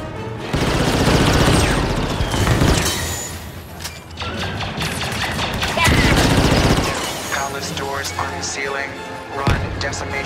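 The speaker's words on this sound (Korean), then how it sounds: "와, 샷건 오지게 쓰네" Shotgun blasts and other gunfire ring out in the Star Wars Battlefront II video game, loud repeated bursts under excited talk.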